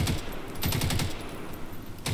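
Rapid automatic gunfire from the video game Landfall crackles in quick overlapping bursts during a base defense fight, loud and continuous with a brief pause before it resumes.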